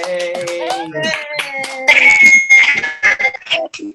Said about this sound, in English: Let's unmute and give Professor Sheets a round of applause.